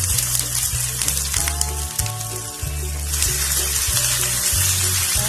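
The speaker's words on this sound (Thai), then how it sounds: "น้ำมันที่ติดกระทะเราก็จะนำถั่วงอกลงผัดนะครับ" Bean sprouts hit a wok still coated in oil and stir-fry with a loud continuous sizzle. Rhythmic scraping and tossing accompany it, with no talk.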